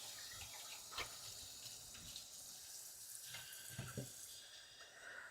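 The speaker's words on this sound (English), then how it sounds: "Wash my hands real quick." Water running steadily from a kitchen tap while hands are washed during home cooking, a soft, quiet splashing stream with a few brief louder splashes.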